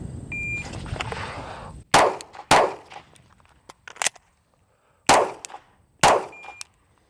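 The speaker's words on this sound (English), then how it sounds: "we're gonna draw and fire two, do an emergency reload, and fire two more in 6 seconds" Pistol shots ring out in a police shooting drill, with a timer beep, two sharp shots, a pause with metallic clicks during an emergency reload, then two more loud shots close by at an outdoor range.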